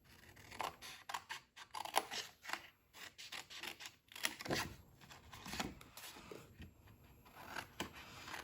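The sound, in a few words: sharp paper snips (scissors) cutting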